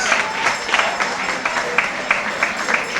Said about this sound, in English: Let's give him again a round of applause.